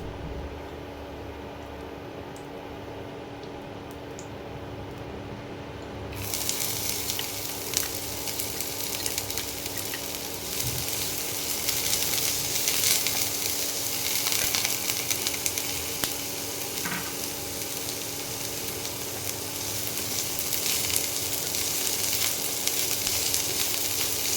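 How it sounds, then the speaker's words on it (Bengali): Chopped medium onion dropped into hot oil, bursting into a loud, steady sizzle after a quieter stretch of heating oil, continuing evenly throughout with occasional stirring. "তেলটা গরম হলে পেঁয়াজটা দিয়ে দেবো।"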